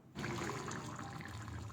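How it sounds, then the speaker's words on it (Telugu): A glass of water is poured into a pot of gongura boti curry, making a sudden, continuous splashing rush that starts abruptly and carries on steadily at close range without talk. "తర్వాత ఒక గ్లాస్ వాటర్ పోసాను"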